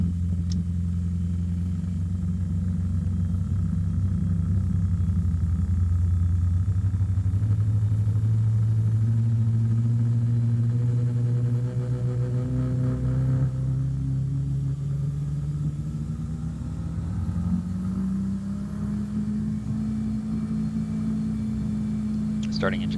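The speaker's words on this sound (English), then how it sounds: "Starting the engine." A racing car engine in a racing simulator starts up and settles into a loud, steady idle, its deep rumble rising in pitch partway through and holding close and continuous throughout.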